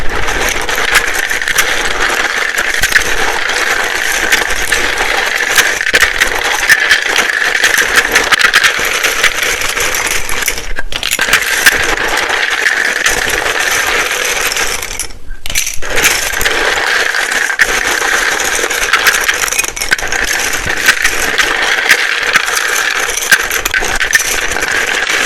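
Tarot or oracle cards being shuffled loudly and continuously, a dense flapping and riffling texture that runs steadily for about twenty-five seconds with only two brief pauses.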